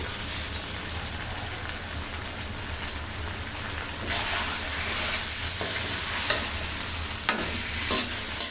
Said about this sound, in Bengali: তাহলে এখন ভালো মতো নেড়ে চেড়ে কষিয়ে নিব